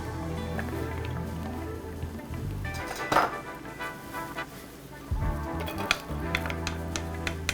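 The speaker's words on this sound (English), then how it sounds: "I've got my saute pan, a little oil, and I'm gonna start with my onions" Onions sizzling in a little oil in a saute pan, a quiet, continuous frying hiss with a few stirring clatters and knocks.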